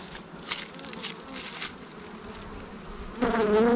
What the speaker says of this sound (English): I'll thank God for the blessing of calm bees today.